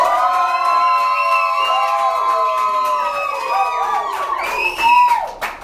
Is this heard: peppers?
no